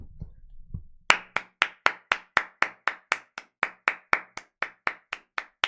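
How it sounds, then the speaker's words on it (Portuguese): Sharp, evenly spaced claps ring out one by one, about eighteen crisp hits at a steady rhythm, loud and close, following a few soft low thumps at the start. "Palmas, uma salva de palmas."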